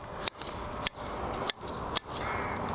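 Garden shears cut through pine shoots in four crisp, close metallic snips spaced roughly half a second apart, with quiet rustling of needles between them.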